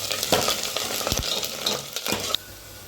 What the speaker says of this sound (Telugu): జీలకర్ర, మెంతులు, ఆనియన్స్, కరివేపాకు వేసుకొని బాగా ఫ్రై చేసుకోవాలి.